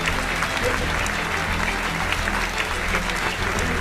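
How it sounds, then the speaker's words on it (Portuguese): A church congregation breaks into sustained applause, dense and even clapping from many hands filling the room at a steady loud level for the whole span, with faint crowd murmur underneath. "Você pode aplaudir ao Senhor por isso?"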